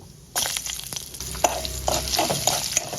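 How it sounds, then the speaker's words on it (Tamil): Ginger sautés in a pan for a pirandai chutney, a sudden burst of close sizzling that carries on steadily with scraping stirring strokes. "இப்போ இதையே இஞ்சியை போட்டு வதக்கிங்கோ"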